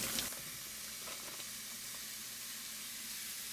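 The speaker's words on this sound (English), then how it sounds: "Then I'm gonna go in with my ground beef and start cooking it until it's brown." Ground beef frying in a hot pan gives a steady, close sizzle that holds at an even level throughout, with no voices.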